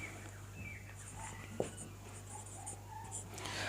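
Pen or pencil writing a Sanskrit word during a Sanskrit translation lesson, a faint close scratching with a few short strokes over low background hum.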